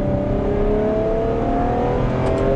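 A Ferrari F12 Berlinetta engine revs loud and close as the car accelerates, its smooth tone climbing steadily in pitch without a break, with no voices.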